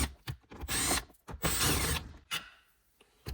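Three 8mm hex bolts being worked loose from interior trim on a 4th-generation Toyota Tacoma, giving close mechanical ratcheting and creaking bursts in irregular spurts with short pauses between.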